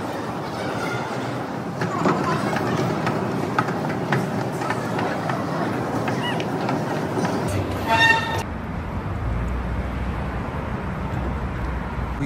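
A Montreal metro train runs through Namur station with a continuous rolling rumble and clatter, then a brief squeal and a shift to quieter station ambience, with a person speaking over it.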